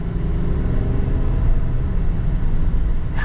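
A 2022 Chevy Suburban Z71 pulls away from inside the cabin, its engine a steady, loud low rumble that stays even through the whole stretch.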